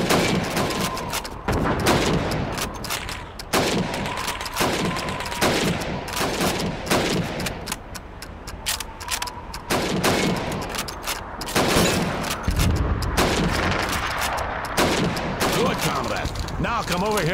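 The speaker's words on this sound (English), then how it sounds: "You have 15 seconds to shoot the helmets." Rapid rifle shots ring out in dense, repeated bursts as targets are fired on during Red Army training in the video game Call of Duty 2, loud and continuous throughout with brief gaps between volleys.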